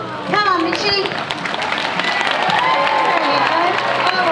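A zoo show audience at Taronga Zoo in Sydney claps and cheers loudly, a broad steady wash of applause with children's voices calling out over it.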